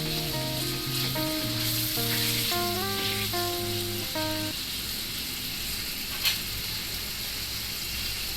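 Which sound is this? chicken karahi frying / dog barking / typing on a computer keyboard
chicken karahi frying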